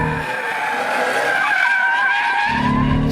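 A Ford Mustang sliding into oversteer on a race track, tires skidding and squealing in a sustained loud screech over the steady drone of the engine.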